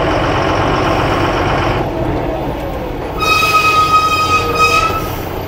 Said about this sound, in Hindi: आगे से देखिए गाड़ी आ रहा है